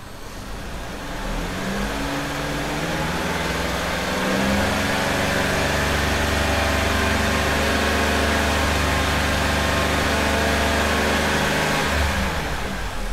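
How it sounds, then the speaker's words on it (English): A car's engine accelerating during a noise and vibration check for worn motor mounts, a loud, close, continuous drone that climbs steadily in pitch, then holds high and level until near the end. "I'm going to accelerate the car so you can see how the bar goes off the hook."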